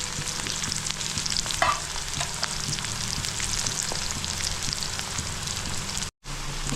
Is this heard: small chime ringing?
no